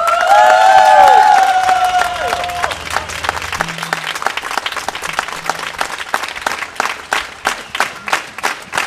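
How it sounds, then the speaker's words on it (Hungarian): Enthusiastic theater audience applause fills the room after a rock opera performance, starting under a fading sung or spoken tone and breaking into sustained, loud clapping that thins into scattered, rhythmic claps toward the end. "Köszöntsük további tapsal a zenei rendezőnket"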